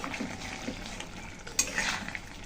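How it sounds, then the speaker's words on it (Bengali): Mixed vegetable curry with a ground spice powder of fennel, cumin and mustard is stirred in a pan, giving soft scraping, a light sizzle and one brief clink of utensil on metal, faint and close. "ভালো করে মিশিয়ে তরকারিটা এখন নামিয়ে নেব।"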